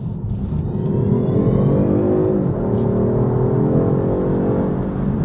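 Cabin view of a BMW 2 Series Active Tourer 230e hybrid people-carrier in sport mode, a loud continuous engine drone that climbs in pitch under acceleration, steady and close with no talking.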